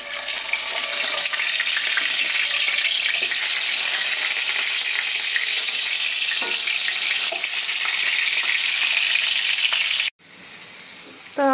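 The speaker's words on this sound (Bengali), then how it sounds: "এবার এগুলো আরেকবার করে সব ভেজে নেবো।" Chicken pieces sizzle and fry in hot oil in a kadai, a steady dense crackling hiss held close for most of the stretch, with occasional stirring scrapes, then cutting off abruptly near the end.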